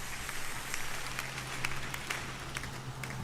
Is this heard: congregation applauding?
yes